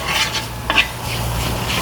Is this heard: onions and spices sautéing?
yes